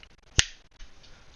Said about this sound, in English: I'll snap my fingers